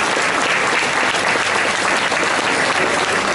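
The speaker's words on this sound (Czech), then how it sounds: "abych poprosila ještě jeden potlesk pro něj" A large crowd on Domažlice square at the Chod folk festival applauds the founder of a legendary folk band, a loud, dense, unbroken wash of clapping.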